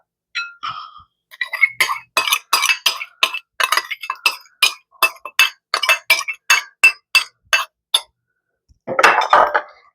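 A spoon mixing ingredients into a flour mixture in a glass bowl, striking the glass in a quick, rhythmic run of bright clinks close by, then a brief scraping stir at the end.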